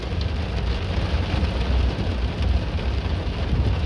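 Small hail pelts a car during a storm at Pine Island: a dense, steady pattering hiss of many tiny impacts across the body and glass, close and continuous with no pauses.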